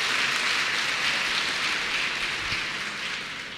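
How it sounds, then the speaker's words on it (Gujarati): An audience at a Chaul Sanskar ceremony in Ayodhya applauds the three mahants with dense, rain-like clapping that fills the air and eases slightly toward the end. "આપણે ત્રણેય મહંતોને જોરદાર તાળીઓના નાદથી વધાવીશું."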